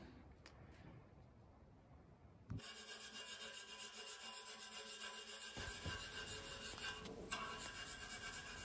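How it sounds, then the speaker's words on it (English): Scraping mill scale off steel, a continuous close rasping scrape that starts abruptly after a quiet moment and keeps up a dense, gritty friction sound with a faint high whine behind it. "I'm just scraping away at it a little bit right here."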